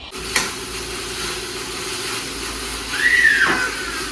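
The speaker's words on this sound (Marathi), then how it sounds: "ती पेस्ट यामध्ये घातली आणि आता ही पण छान परतवायची" Green chili and garlic paste sautéing in a hot pan gives a steady close sizzle with a brief clatter near the start and a rising whistle-like hiss toward the end.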